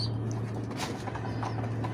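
Pigeons, kept birds including a young one, in a room with a steady low electrical hum, soft bird calls and faint coos scattered over two seconds, no talking.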